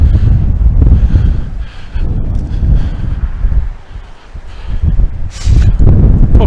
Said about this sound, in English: It's getting colder, it's quite windy